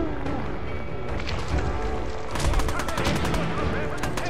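Gunfire in the post-apocalyptic game Fallout 4, including a shotgun, with a dense spread of shots and loud bursts over a steady din, some sharp repeated cracks near the end.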